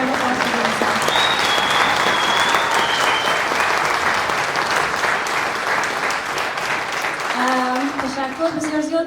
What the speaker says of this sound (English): please give yourself a big round of applause for yourself